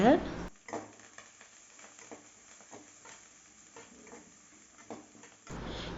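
Onions, green chillies and curry leaves being stirred in a pan for chickpea sundal, a faint sizzle with soft spatula scrapes and light clinks, with a brief voice at the start and end.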